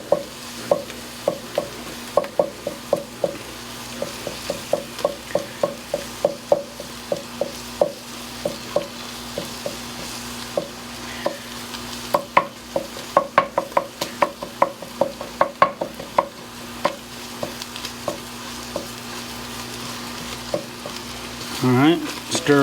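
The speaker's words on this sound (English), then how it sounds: "So you want this tomato paste to caramelize a little bit." Tomato paste sizzles in a chili pot on a home stove, a continuous frying hiss broken by frequent scraping and clacking from a spoon stirring, close and steady throughout.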